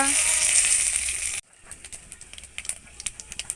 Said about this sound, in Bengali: এর মধ্যে একটু তেল দিয়ে দেব তারপর এর মধ্যে একটু ফোড়ন তেজপাতা